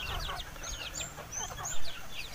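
Young chicks in a coop enclosure cheep continuously in a busy, high-pitched chorus of short overlapping peeps, fairly close, with one louder call near the end and no talk.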